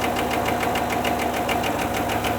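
A Kia K2 from 2016 with 120,000 km on the clock idles while its engine knocks in a steady, rapid, hammer-like tapping that repeats evenly over the constant engine hum. The knock is loud and close, with no voices.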